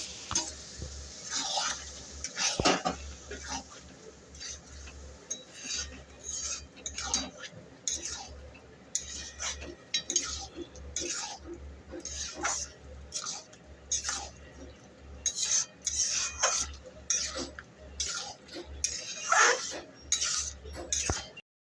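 Peas sautéed with spices in a pan, a spatula scraping and clinking against the metal in irregular strokes, close and fairly quiet with soft frying underneath.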